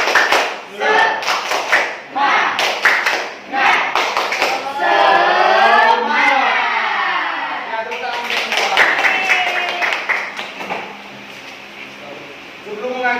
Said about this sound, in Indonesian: Nah, ibu bapak ya, tepuk semangat.